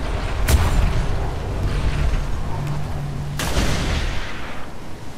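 Gunfire in the ATLAS video game, aimed at plates, rings out as two sharp, booming shots a few seconds apart over a steady rumbling game backdrop.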